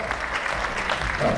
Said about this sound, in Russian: Отдельный аплодисмент, пожалуйста, еще раз маме Магдалине.